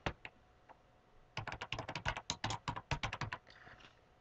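Typing on a computer keyboard at a desk, a few scattered taps followed by a fast, steady run of roughly twenty close, crisp keystrokes, with no talking.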